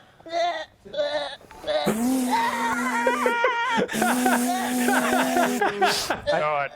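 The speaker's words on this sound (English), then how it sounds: "T10 Nat, who is a baby goat. It's just been born" A newborn baby goat bleats in a stream alert: loud, wavering, drawn-out cries repeated several times close to the microphone, with a quieter voice-like sound at the start.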